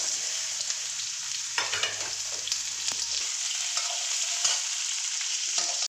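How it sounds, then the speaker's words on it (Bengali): Dried red chillies and nigella seeds sizzle in hot oil in a home kitchen pan, a steady close crackle with occasional stirring scrapes, no talking. "শুকনো লঙ্কা দিয়ে দিলাম কালো জিরে বেশি করে দিলাম"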